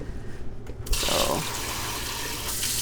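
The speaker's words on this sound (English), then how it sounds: "you gotta fill this up with water so it's a few inches above the garbanzo beans" Running water pours steadily into a pot of dry garbanzo beans, a broad rushing stream that starts abruptly and continues without pause.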